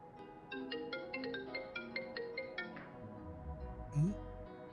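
A phone ringtone plays an electronic melody of repeated short tonal notes for about three seconds, moderately loud in a quiet room, followed by a brief low thump and rustle.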